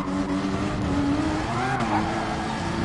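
A Porsche races in a PS4 video game, its engine droning and shifting pitch under faint tire noise, steady and fairly close for a few seconds with no talk.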